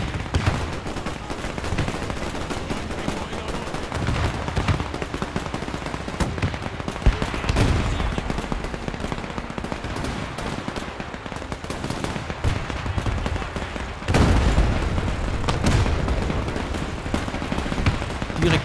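Heavy gunfire and tank combat from the video game Men of War II, with machine-gun bursts, rifle shots and deep artillery blasts rolling on continuously, loud and dense, with a sharper blast midway and a surge near the end.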